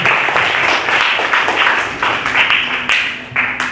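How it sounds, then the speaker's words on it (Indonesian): Classroom applause during a sociology lesson, with a group of students clapping steadily for about four seconds, loud and close, with the bursts of clapping rising and falling in intensity. "Beri tepuk tangan untuk Rehan."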